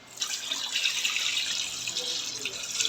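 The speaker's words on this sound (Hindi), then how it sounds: "ये पानी हम ऐड कर देंगे।" Water pours in a steady splashing stream into a cooking pot of mutton curry, a quiet, continuous gurgling rush lasting a few seconds with no voices.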